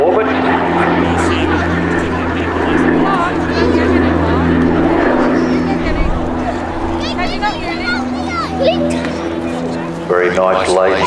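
Propeller-driven OV-10 Bronco in a slow, lazy climb during an air show display, its steady engine drone loud and continuous with strong low harmonics, while a commentator talks over it throughout.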